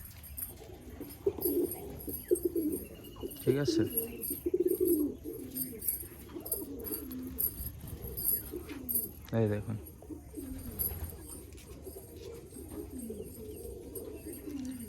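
Pigeons of the Noyar breed cooing at a seller's loft near Baruipur, with soft repeated coos and bird calls running throughout while someone talks over them.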